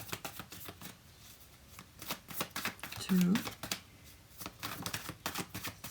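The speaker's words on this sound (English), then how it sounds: "I'll do one more shuffle" A tarot card deck being shuffled at close range, with quick papery riffles and flutters in irregular bursts while a person counts aloud over them.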